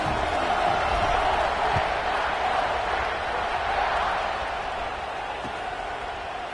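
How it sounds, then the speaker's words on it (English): A football stadium crowd roars steadily as the kickoff follows a touchdown and extra point, a broad, sustained wall of cheering and noise that eases slightly toward the end. "this crowd now ready to get behind them"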